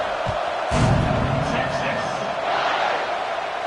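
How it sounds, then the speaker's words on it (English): A football stadium crowd buzzes with a broad, steady roar after a touchdown, with a thump near the start and a play-by-play voice talking over it. "this crowd is buzzing after that last score"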